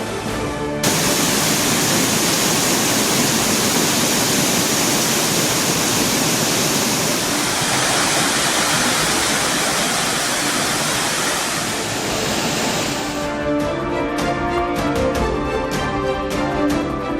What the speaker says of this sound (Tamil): கனமழை காரணமாக குற்றால அருவிகளில் தொடர்ந்து வெள்ளப்பெருக்கு